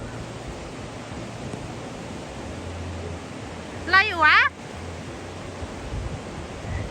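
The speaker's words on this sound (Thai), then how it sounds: "เสียงดังเพราะว่าแม่น้ำมันแบบเป็นแบบนี้" Loud rushing river in a forest, a constant broadband roar of flowing water close by, with a brief burst of a woman's speech partly masked by the noise.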